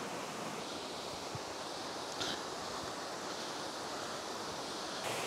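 A waterfall at Dolgoch Falls pours through the woods, heard as a steady, fairly faint broadband rush with no voices over it.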